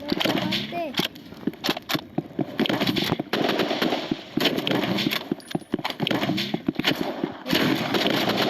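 Rapid bursts of gunfire in the Roblox shooter game Rivals, sharp repeated shots in clusters throughout, with players talking over the action.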